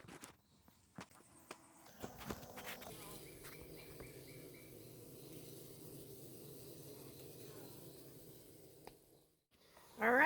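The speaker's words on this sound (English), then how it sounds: "it's time to remove the cloth from the front entrance and let the bees out." A swarm of bees set free from a hive entrance gives a faint, steady insect hum, with scattered footsteps and rustling handling noises close by and a louder burst at the very end.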